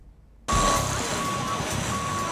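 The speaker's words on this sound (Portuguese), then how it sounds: "é caminhão descarregando" A truck's reversing alarm sounds during unloading at a construction site: steady, evenly spaced electronic beeps over loud engine and site noise, with no talk.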